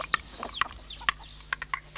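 A chicken clucks in an audio drama, giving a series of short, sharp clucks and squawks spaced irregularly over a couple of seconds against a quiet background.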